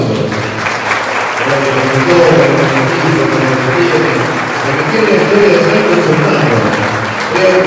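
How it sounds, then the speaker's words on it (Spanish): Audience applause at a book presentation, a full, continuous round of clapping with some voices and murmurs underneath, holding steady for the whole stretch. "Así que yo realmente creo que se merece otro aplauso."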